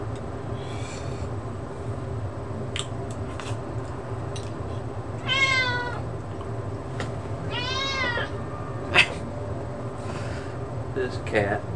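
A cat meows twice in Suicide Squad: Kill the Justice League, drawn-out cries rising out of a dense rumbling background with people talking over it.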